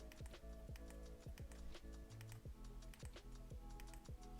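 A smartphone's power button clicked repeatedly in quick, crisp, evenly spaced taps, close up and fairly quiet, with no voices.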